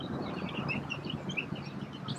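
Chickens on a farm being herded back into their pen, heard as a busy flock of clucks and chirps over steady rustling background noise, with no talk.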